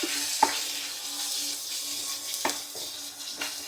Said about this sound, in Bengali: আমি সব কিছু দিয়ে একটু মিক্স করে নিচ্ছি।